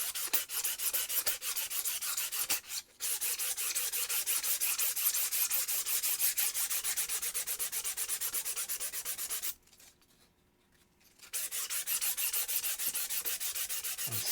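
A 3D-printed piece is sanded by hand with steady, rapid back-and-forth rasping strokes, close and loud, briefly pausing near the start and again for about two seconds before the scrubbing resumes.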